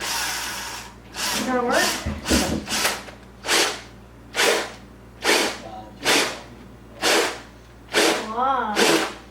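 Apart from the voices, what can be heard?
power drill drilling a bottle gourd birdhouse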